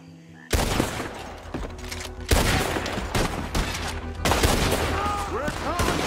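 Red Dead Redemption 2 shootout at Bronte's mansion: dense, loud volleys of gunfire crack and boom in repeated bursts, overlapping shots with echoing tails, with a brief whistling effect near the end.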